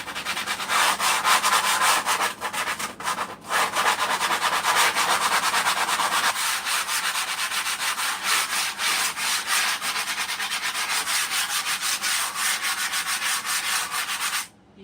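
An electric sander works over wood flooring during a renovation of a converted bus, a loud continuous abrasive whir with steady rubbing texture that briefly dips twice early on and cuts off just before the end.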